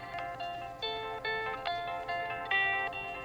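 Dry clean electric guitar with no effects plays a repeating pattern of plucked notes, each attack distinct and quickly decaying, somewhat uneven and messy in timing, clear and close.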